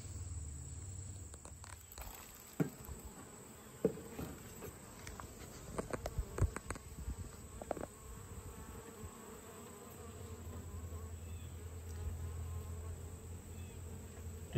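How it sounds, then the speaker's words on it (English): Honeybees buzz steadily around a hive entrance late in the day as foragers return, a continuous close insect drone with brief louder passes of individual bees near the microphone. "Bees coming into the hive, coming back in for the evening."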